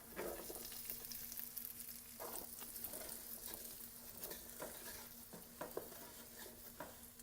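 Sausage stirred into a pot of roux and vegetables for shrimp and grits, with soft scraping strokes and gentle sizzling at intervals, quiet and close with no talking.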